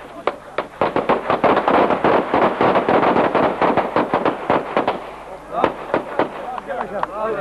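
A rapid, loud string of sharp pistol shots at a Turkish wedding with kemençe, davul and zurna, nearly continuous for several seconds, then thinning out with shouting voices.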